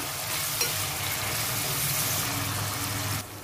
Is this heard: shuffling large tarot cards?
no